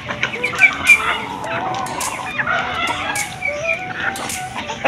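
Several Rhode Island chickens clucking and cackling close by, with a few crowing calls mixed into the steady busy flock noise; no speech.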